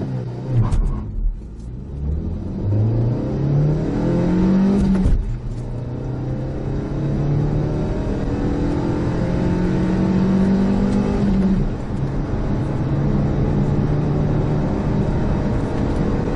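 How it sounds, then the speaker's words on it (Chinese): A 2018 Changan Eado accelerating from 0 to 100 km/h on a test track in a cold-start run: a loud, close engine roar rising in pitch through several gear changes over about sixteen seconds, no talking. "第二代异动冷态加速零到一百公里以及一百公里到零减速制动测试"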